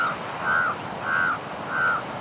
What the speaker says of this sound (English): Crows generally make the caw sound.